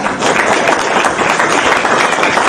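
An audience at a mimicry show claps in dense, steady applause that stays loud and continuous throughout.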